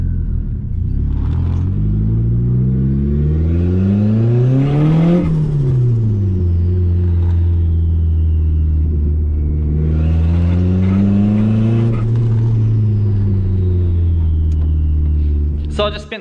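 A Mitsubishi Evo engine revs loudly from inside the car while driving, climbing through two long rising and falling sweeps with a steady deep drone between them.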